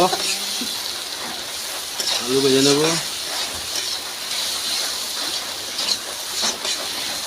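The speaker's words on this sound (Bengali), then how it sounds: "আলু ঢেলে দিয়েছি, এখন আলু ভেজে নেব।" Boiled potatoes and tomatoes fry in a pan with a steady, close, crackling sizzle throughout, while a voice briefly sounds partway through.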